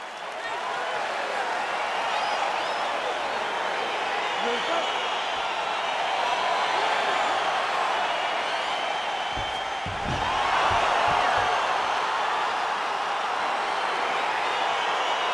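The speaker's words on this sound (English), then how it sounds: "crowd getting excited as this fight gets underway" An arena crowd in the UFC 4 fighting game keeps up a steady, loud wash of cheering and roaring as a bout begins, with a commentator talking over it.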